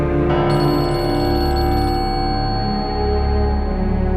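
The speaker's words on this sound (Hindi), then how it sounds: "यार मेरा फोन बज रहा है, प्लीज लाना।" A phone ringtone rings steadily and loudly for several seconds, a sustained electronic melody with tonal harmonics and no voices over it.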